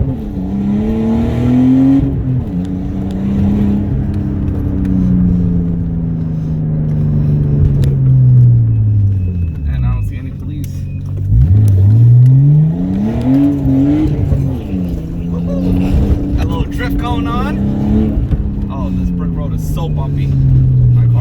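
In a sim racing video game, a car engine revs and shifts steadily, its pitch rising and falling through gear changes as another Honda car runs nearby, loud and continuous with a voice talking over it.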